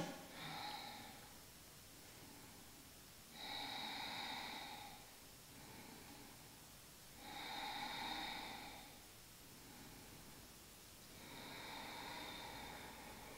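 Slow, deep breaths during a Pilates exercise with an elastic band: close, airy inhales and exhales swelling and fading in a steady rhythm, roughly four breaths, with no talking.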